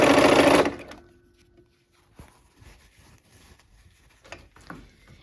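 A sewing machine stitches quilt block rows together in a loud, short run of under a second, then stops. Quiet handling clicks and fabric rustles follow.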